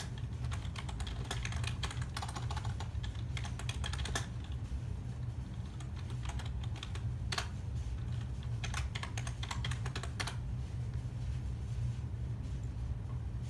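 Steady typing on a computer keyboard of an old Compaq Presario desktop, a continuous stream of close clicking keystrokes with a few louder taps over a low hum.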